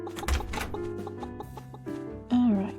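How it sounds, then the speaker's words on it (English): A chicken clucks repeatedly near bees in a farm setting, close and fairly loud, in short choppy bursts ending in a louder rising squawk. "Hey chicken, leave the bees alone."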